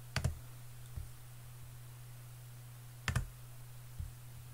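A computer mouse clicks close by in a quiet room during CAD sketch work: two quick double clicks about three seconds apart, each followed by a softer single click, over a low steady hum.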